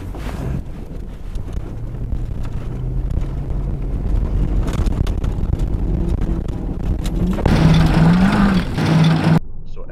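A Mercury Grand Marquis drives toward an edge and jumps off it, its engine rumbling and rising in pitch under heavy wind buffeting on the microphone, with a louder surge near the end before the sound cuts off.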